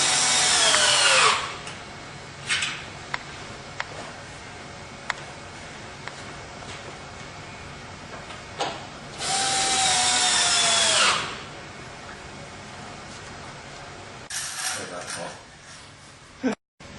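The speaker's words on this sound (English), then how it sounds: "Getting all the screws in, and you'll have a nice, secure railing system." Power drill driving screws into an aluminum railing, in a few loud whirring bursts of a second or two each, with quieter handling and tapping sounds between them.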